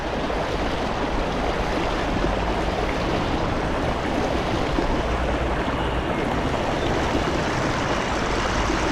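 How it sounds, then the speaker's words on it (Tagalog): A strong tidal current flows at high tide, a loud, dense, continuous rush of water with no breaks, heard up close. "Pag high tide po, yan, malaki po yung ano po yung agos. Malakas po yung agos dito."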